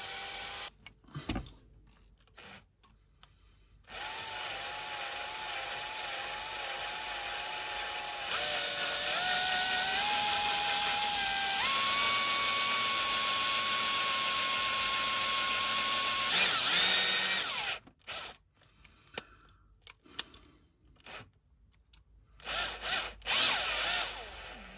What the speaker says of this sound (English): I'm struggling with the drilling